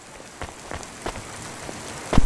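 Rain falling in the video game Cloudpunk, a steady wash of rainfall with scattered close drips and patters striking surfaces, ending in a louder burst of splashing.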